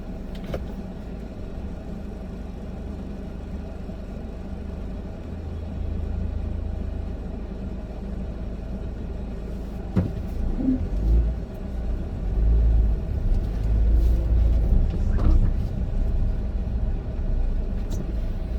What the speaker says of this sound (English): Nothing like a little traffic jam.